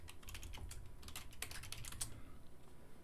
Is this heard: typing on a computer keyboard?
yes